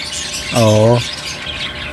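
Pet parakeets give a single loud, harmonic squawk lasting about half a second after feeding, clear against a quiet room background.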